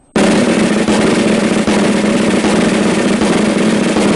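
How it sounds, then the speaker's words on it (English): A snare drum rolls very closed, the strokes blurring into a continuous loud buzz that starts sharply and holds evenly, played up close with no voices. "Here's the 11-stroke roll played very closed."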